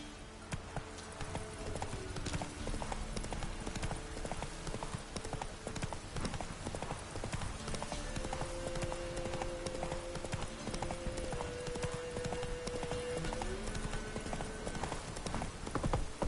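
Horse hooves clip-clopping steadily in the video game The Witcher 3 next-gen edition, a continuous rhythmic trot heard up close over a low game backdrop with no talk.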